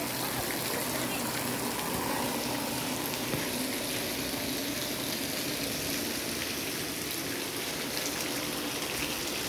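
A resort shower pours with a constant dense hiss of running water, close and unbroken throughout, with faint voices in the background.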